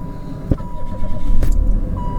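A 1988 Pontiac Fiero engine cranks and catches, with two sharp clicks before a low, rough idle that rises and settles, heard close inside the car.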